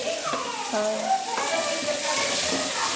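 Half a kilo of chicken frying with tomato in a pan gives a steady, close sizzle running throughout, with a voice speaking over it.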